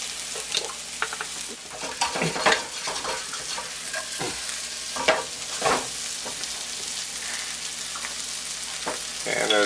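Sliced onions and mushrooms frying in a pan for a roast beef sandwich topping: a steady, busy sizzle with scraping stirs and occasional louder pops, no voices.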